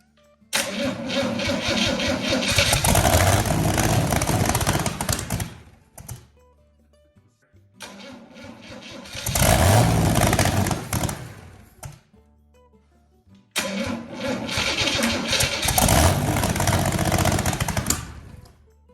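A carbureted Chevy 230 inline-six, warmed up after long storage, runs loudly in three sustained bursts of roughly five seconds each, separated by brief near-silent pauses.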